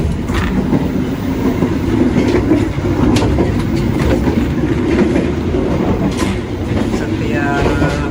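Inside the Fajar Utama Solo passenger train travelling from Bekasi, a loud, steady rumble of wheels on rails carries rhythmic clickety-clack joints throughout, with faint voices in the background.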